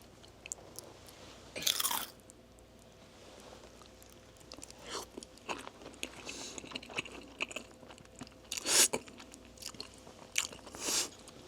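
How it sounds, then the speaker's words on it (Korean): Close, wet chewing and biting on a big forkful of lasagna with runny egg yolk, crunchy bites at irregular intervals with a few louder bursts, no talking. "자, 크게 한 입 먹어보겠습니다."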